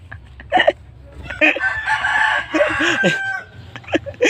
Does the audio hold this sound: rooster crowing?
yes